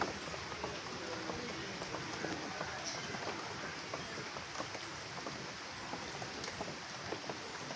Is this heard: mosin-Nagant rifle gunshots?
no